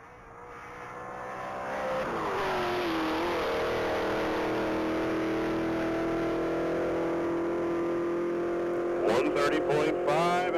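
A stock Chevrolet Camaro SS accelerates hard on a mile-long top-speed run at a Texas racing event, its engine note rising and sustained at full throttle from a distance, with a brief burst of crackling near the end.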